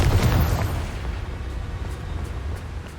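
A fiery Confringo blast spell goes off in Hogwarts Legacy, a loud booming burst at the start that rolls off into a low rumbling tail with faint crackles.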